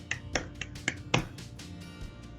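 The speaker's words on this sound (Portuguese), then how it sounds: "Um salve de palmas aí para o Anderson." An audience claps for a guest on a podcast interview, a short run of sharp, distinct claps, about five or six, close and fairly loud, with no talk.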